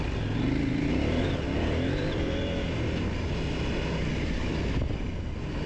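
Motorcycle on the Trans Euro Trail in Spain, engine revving hard and steadily under throttle, a loud continuous roar close up, with wind noise and no talk.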